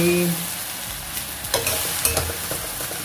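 Vegetables and wide rice noodles in black soy sauce are stir-fried in a wok, with a soft steady sizzle broken by several sharp scrapes and clacks of a spatula against the metal.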